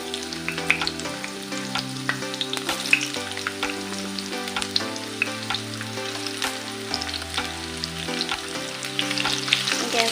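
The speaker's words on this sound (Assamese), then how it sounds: "এতিয়া মই পিঁয়াজখিনি দি দিম।" Onions fry in a pan over a medium gas flame with bay leaves and dried red chillies, a continuous close crackle and sizzle with dense bursts of popping and no talking.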